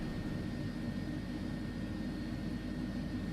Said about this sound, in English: That's really all I hear is the APU loud as heck.